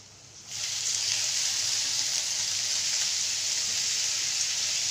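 Drumstick pods (shevga) dropped into hot spiced oil in a Maharashtrian-style masala curry, giving a loud, steady sizzle that jumps up abruptly after a quieter start and holds constant without talk.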